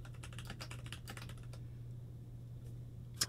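Fast, light clicking of keys on a computer keyboard, dense for the first second and a half, then sparse taps with a final louder keystroke, close and quiet in a still room.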